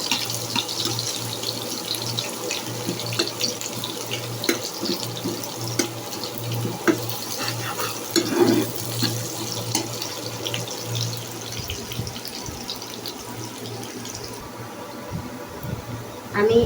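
Water streams steadily from a kitchen tap during the cooking of a coconut chicken curry, a continuous close splashing rush lasting throughout, with a voice occasionally heard over it.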